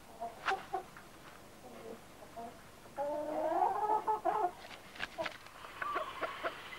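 Chickens and cockerels clucking and squawking in short, uneven bursts, with a louder run of throaty calls in the middle, fairly close.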